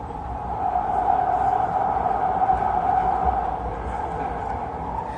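A steady rumble of a packed passenger train in motion through Los Angeles, a continuous droning hum from inside the carriage, moderately loud and even throughout.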